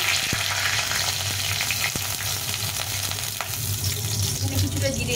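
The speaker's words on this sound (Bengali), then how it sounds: "একটা শুকনো লঙ্কা ভাজে দিয়েছি" A dried red chili and a bay leaf fry in hot oil, giving a steady dense sizzle with occasional small clicks of stirring, close by and without talk.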